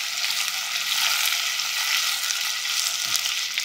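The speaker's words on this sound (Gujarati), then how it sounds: "આની સાથે વઘારમાં 2 સૂકા મરચાં ઉમેરી દઈએ" Dried red chillies and chopped chillies fry in hot tempering oil, giving a steady, bright sizzle with light crackling that stays close and even for the whole stretch, with no voices.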